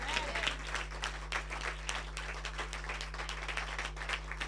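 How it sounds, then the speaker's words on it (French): Church congregation applauding, with dense, continuous clapping from many hands filling the room at moderate volume over a steady low electrical hum. "Je veux que vous les acclamez."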